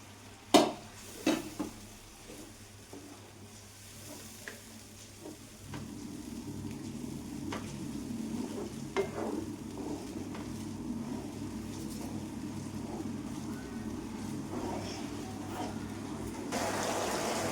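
Cooking water from pressure-cooked chicken is poured into a thick simmering gravy in a pan, giving a steady bubbling sizzle after a few clinks of a utensil. The sound is moderately close, with no talking.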